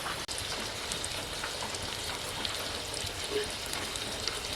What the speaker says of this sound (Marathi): पाऊस पडतोय ना, तो सरीवरचा पडतोय.